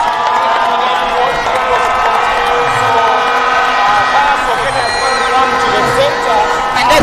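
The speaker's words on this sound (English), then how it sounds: "there's a huge cheer for Desire Ayera as he comes on pitch" A large stadium crowd at a Uganda vs Kenya rugby match roars steadily and loudly throughout, a dense sustained cheer with a commentator's voice running under it.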